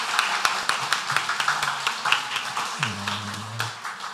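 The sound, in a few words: congregation applause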